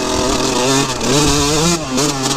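A Yamaha YZ125 two-stroke dirt bike screams at full throttle on a Colorado Rockies trail, a loud, close, continuous high-pitched engine wail that rises and dips slightly as the rider holds it pinned.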